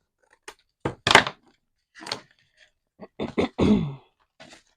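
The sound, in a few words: throat clearing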